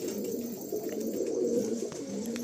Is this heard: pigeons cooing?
yes